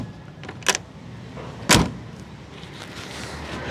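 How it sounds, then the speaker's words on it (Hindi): Doors on a vintage Fiat 1100 D car are worked up close, with two sharp metallic clunks about a second apart against quiet background, and no talking. "गाड़ी के अंदर दाखिल होने से पहले इसकी मैं आपको आवाज़ अगर सुनाऊं इसके दरवाज़ों की"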